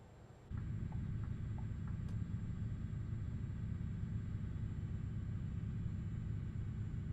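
A heavy military truck's engine in Euro Truck Simulator 2 drones with a deep, continuous rumble as it climbs a hill, loud and steady throughout after a brief quieter start.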